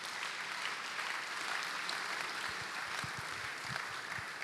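A church congregation applauding at a Sunday service, a steady dense clapping wash over the full stretch, with sharper individual claps standing out near the end.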